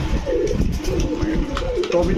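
Pigeons cooing at close range at a pigeon market, with low throaty coos in a continuous cluster and someone talking over them.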